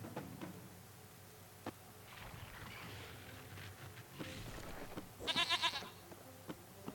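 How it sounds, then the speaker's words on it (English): A goat bleats in the video game Driven Out, one short nasal bleat near the end over quiet game ambience and scattered soft clicks. "Goat sounds."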